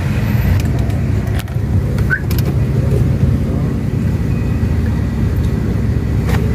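Heavy car passing on a city street in Zone 1 of Guatemala City, a loud continuous low rumble of traffic with some clicks and clatter on top, and a voice faintly under it.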